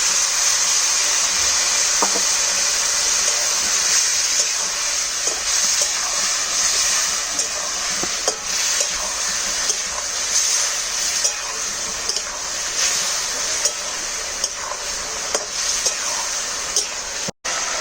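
Spices for a rohu fish curry with cauliflower frying in a pan with a little sugar and water, a steady loud hissing sizzle with small crackles and pops throughout, no talking.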